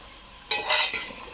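Masala spices, including garam masala, dhania and jeera powder, stir and fry in a pan for a sugar beans curry, a short burst of sizzle and spoon scraping that rises after a quiet start and then fades.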